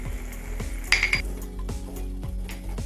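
A spoon stirs masala of coriander powder and garam masala in a pan, making a steady run of close scraping strokes with light metallic clinks and a faint sizzle.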